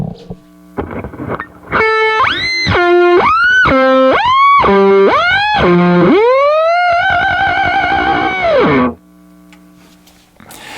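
A distorted electric guitar note is bent sharply up and down in pitch by an original DigiTech Whammy pedal, sweeping through several leaps before settling into a long held tone.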